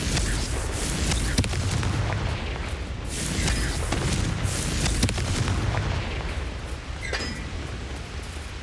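A Confringo blasting curse explodes in the video game Hogwarts Legacy, heavy booming blasts and rumbling bursts layered over continuous dense battle noise, with a few sharp cracks standing out.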